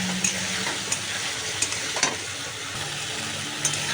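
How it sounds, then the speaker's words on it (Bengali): Spice-coated goat liver curry with garam masala sizzles steadily in a pan, with a few sharp scrapes of a spoon stirring it through the constant hiss and no voices. "ভালো করে নেড়ে দেবো।"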